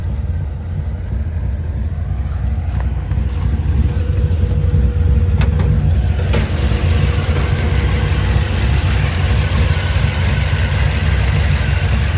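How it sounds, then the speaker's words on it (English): A 1957 Chevrolet Bel Air restomod with a brand-new Fastco stroker engine idles close by, a steady, even rumble that holds throughout with no talking. "That's a Fastco stroker engine."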